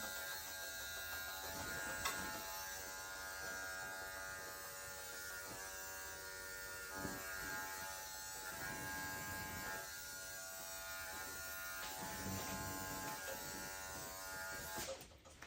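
Electric clippers trim a dog's ear hair during a creative Asian Fusion pet grooming session, a steady close buzz running unbroken for the whole stretch with slight shifts in tone as the blade moves.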